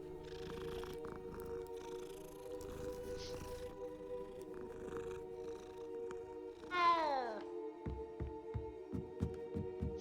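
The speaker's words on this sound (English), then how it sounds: "Oh, it's a kitty." A cat in the video game Hogwarts Legacy gives a single rising-then-falling meow over a steady humming game soundtrack, followed by a few soft low thumps.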